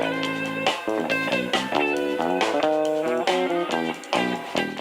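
A bass tone on Ernie Ball strings comes through as a punchy, funky run of plucked notes, dense and loud with no talking.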